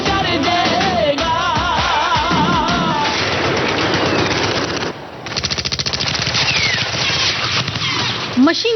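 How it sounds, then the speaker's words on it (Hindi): Heavy machine-gun fire in a Kashmir war scene, rapid continuous bursts of close, loud shots mixed with shouting voices and dense battle noise throughout. "मशीन गन से भारी तादाद में निकलती गोलियों ने कश्मीर की फिजाओं में बारूद घोल दिया।"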